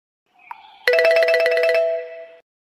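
A mobile phone rings with an incoming call, playing a short electronic chime that leads into a bright repeating melody for about a second and a half, loud and close, then stops.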